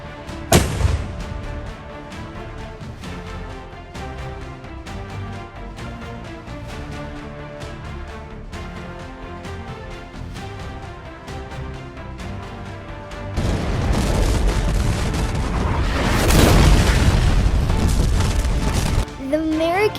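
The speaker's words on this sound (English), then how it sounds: "Most of the Battle of Yorktown was done with artillery. Artillery means cannons and large guns." Cannon and large-gun artillery fire at the Battle of Yorktown: a loud, sustained rumbling barrage of booms that swells in over background music in the second half and holds for several seconds before fading.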